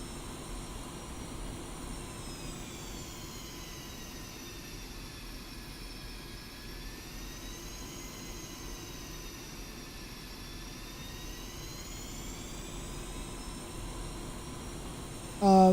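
Jet engines of an aircraft sit on a runway in the DCS flight simulator, a steady droning whine and hum holding level throughout with a slow wavering pitch, no voices.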